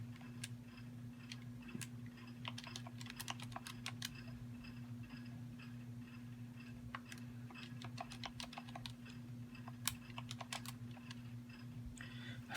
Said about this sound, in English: Type that in my calculator.